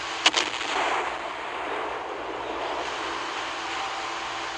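Main guns of the K2 battleship in the video game Naval Creed fire in one loud, sharp salvo near the start, then a long rumbling roll that trails off under steady wind- and sea-like noise.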